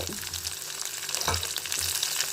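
Ginger, dried red chillies and tomato fry in hot oil with a bright, crackling sizzle close by. One clear stir or clatter breaks in midway, and no voices are heard.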